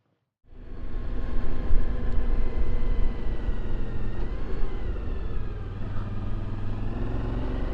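A Suzuki DL1000 V-Strom motorcycle fitted with a Cymarc gear change enhancer rides along, its engine starting abruptly and then holding a loud, continuous drone with wind rush, with small shifts in pitch as the bike moves.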